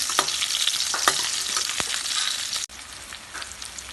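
Beef gravy ingredients sauté loudly in a pan, a dense steady sizzle broken by scattered clicks and scrapes of stirring, close and continuous, easing slightly quieter near the end.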